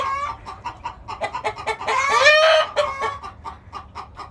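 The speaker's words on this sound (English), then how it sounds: "all that noise, if you're not familiar with chickens, is they're kind of calling out to some of our roosters" Chickens on a farm cluck steadily while a rooster crows loudly and close, its long call rising above the hens' repeated clucks and calls.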